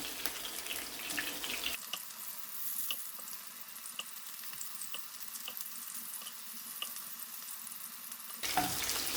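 Prawns fry in hot oil in a pan, giving a continuous soft sizzle with faint clinks from the pan, heard alone and fairly close.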